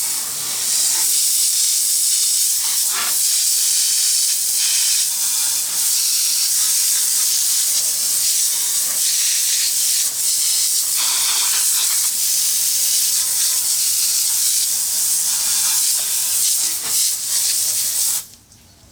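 Steady loud hiss of a water spray rinsing a car wheel, continuous and close for most of the stretch with slight surges, cutting off abruptly just before the end.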